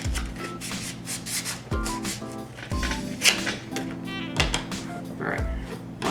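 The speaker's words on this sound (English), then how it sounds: "Sand the edges down with sandpaper." Sandpaper rubs along foam edges in steady, close back-and-forth strokes, a continuous scratchy rasp with periodic pushes repeating throughout.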